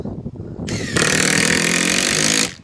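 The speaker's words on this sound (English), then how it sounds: "I'm going to put a couple of screws in it so it doesn't move" Cordless screw gun whirring loudly and steadily for over a second as it drives screws through flat roof boards of a garden room, with a brief lower buzz just before.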